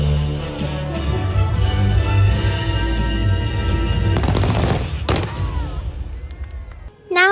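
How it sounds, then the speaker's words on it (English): Fireworks at Disneyland burst in a rapid, dense barrage of loud cracks and booms, building into a crackling volley before trailing off, with crowd noise underneath. "Now it's time for fireworks."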